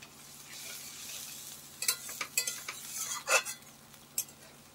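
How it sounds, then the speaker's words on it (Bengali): Spice paste for a fish curry simmers in a little water, a soft bubbling hiss under the clinks and scrapes of a spoon stirring the pot, the strokes coming in an uneven cluster near the end; nobody speaks. "জল দিয়ে মশলাটাকে আমি ফুটিয়ে নিচ্ছি"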